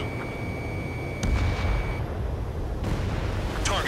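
In Ace Combat 7, a missile launch and explosion come through as two sharp, booming bursts over a constant rumble of jet and wind noise, with a thin alert tone running early on.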